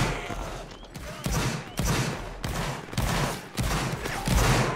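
Rolling musket volleys in a Napoleonic-era battle video game, a series of loud, crackling group discharges bursting roughly every half second to a second, dense and close, with no voices over them.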